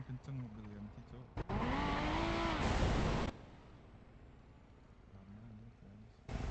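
A fast manual-transmission car drives in a GTA roleplay session, its engine revving hard through a burst of acceleration with tire noise, then easing off before surging again near the end.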